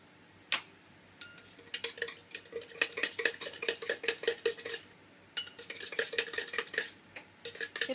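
A spoon clinks repeatedly against a glass or cup while a chocolate drink with sugar and hot water is stirred by hand, producing quick, irregular metallic taps in two bursts, close and clear.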